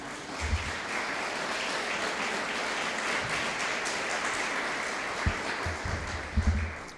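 A church congregation claps their hands in praise to God, a steady, full wash of applause lasting throughout with a few low thumps near the end and no talking over it.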